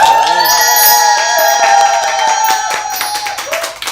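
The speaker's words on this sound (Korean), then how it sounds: "여러분 박수 부탁드립니다." An audience claps and cheers at an outdoor game busking event in Daegu, a dense, loud burst of applause that stays steady throughout, with a bright musical tone ringing underneath.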